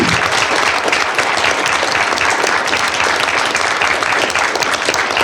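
A festival panel audience at a comics convention bursts into steady, dense applause, loud and sustained throughout with no voices on top.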